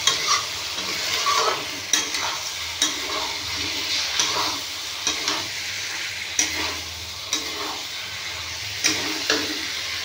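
Potato and pointed gourd curry, just salted, is stirred in a pan: repeated spoon scrapes and clacks roughly every second over a soft sizzle, close up and without speech.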